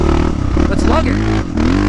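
Yamaha Raptor 660 ATV engine lugging at low revs, a loud close rumbling chug with a brief rise in pitch, with people talking over it.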